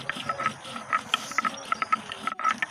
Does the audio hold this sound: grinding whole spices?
yes